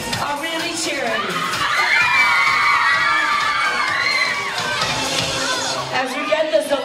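A crowd of girls cheers and shouts loudly, high excited voices rising and overlapping, with whoops near the end amid general chatter.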